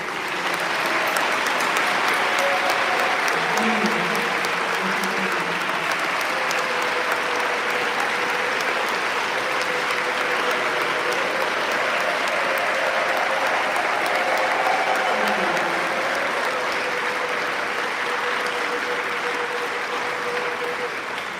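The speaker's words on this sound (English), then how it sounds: "at Unity, we like to show our appreciation with applause" A congregation at a Unity of the Blue Ridge celebration of life applauds, steady and loud for about twenty seconds, with cheering and undulating calls rising within the clapping.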